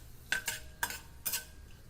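Urad and chana dal tempering in a pan is stirred with a metal spoon: three short, bright scraping clinks spaced about half a second apart over a faint sizzle, close and quiet, no voices.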